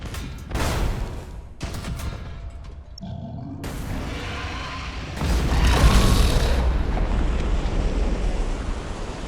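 Ship weapons and explosions in the Battlefleet Gothic Armada 2 video game: a rushing, wind-like roar with deep booming bursts that swell louder midway, continuous and heavy with no speech.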